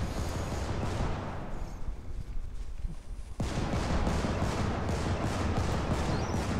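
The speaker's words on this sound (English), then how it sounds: "Hearing gunshots, that's mildly terrifying." Gunfire in the video game Helldivers booms as a dense, continuous barrage, loud and close, with a brief lull midway before the volley resumes.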